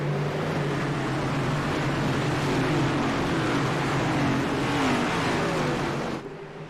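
A race car engine roars steadily near and loud as the driver floors it on a restart at Homestead-Miami Speedway, the pitch rising and falling slightly before fading at the end.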